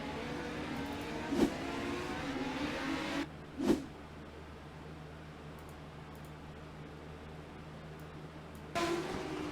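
Legends race cars on a dirt track at South Boston, engines droning steadily with brief sharper revs bursting through now and then, heard from a distance without talk.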